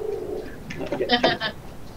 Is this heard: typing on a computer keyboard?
no